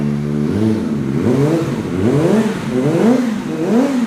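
A 2021 Kawasaki ZX25R fitted with a titanium slip-on exhaust is revved in repeated quick throttle blips, its loud close exhaust note rising and falling rapidly over a steady idle.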